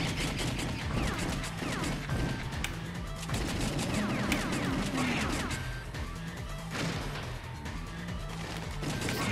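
Gunfire during a boss fight in the Dreamcast game House of the Dead 2 comes as a fairly quiet, continuous barrage of rapid shots, crashes and impacts.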